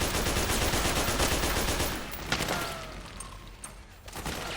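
Dense, rapid gunfire in Metal Gear Solid 4, a loud sustained burst that thins out after a couple of seconds into scattered shots and lingering rumble, no talking.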